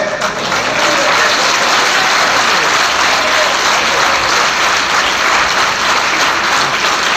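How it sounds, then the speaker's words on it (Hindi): A large audience, including women, claps at a political speech in Rewa, producing loud, sustained, even applause that fills the whole stretch without pause. "अब तो बहनें भी तालियां मार रही हैं।"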